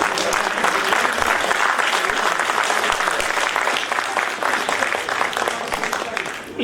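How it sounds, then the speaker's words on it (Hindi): An audience at a Hindi comic poetry gathering claps continuously, a dense, loud, steady wash of applause lasting throughout with no pauses. "आप लोगों ने जो कमजोर ताली बजाई है"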